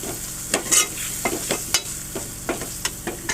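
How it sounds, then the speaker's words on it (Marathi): Vegetables, tomato and potato sauté with spice masala in a pan, sizzling steadily. Quick, close scraping strokes of a spoon come every fraction of a second with no talk. "आपण चांगली भाजी आणि टोमॅटो आणि बटाटा ह्या परतून घेऊ"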